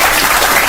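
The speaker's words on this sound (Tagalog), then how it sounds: "Palakpak naman dyan" A brief, loud burst of clapping from a crowd, dense and even over less than a second with no speech on top.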